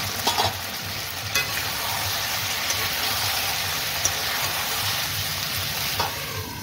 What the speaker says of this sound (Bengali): এবার আমি আবার ভেজে নেব